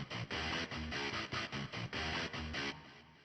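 A bass guitar line in a music production, playing a punchy, rhythmic run of short distorted notes in quick succession, fairly quiet and alone, fading out at the end.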